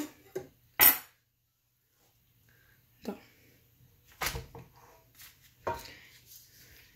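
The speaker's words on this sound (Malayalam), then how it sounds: "നന്നായിട്ടൊരു കത്തി കൊണ്ടോ അല്ലെങ്കിൽ ഒരു ബട്ടർ നൈഫ് കൊണ്ടോ അരികെ മാറ്റിയെടുത്ത്" A knife or butter knife scrapes around the edges of a steamed Kerala vattayappam rice cake in its pan, making a few short, close metallic scrapes and clinks separated by quiet pauses.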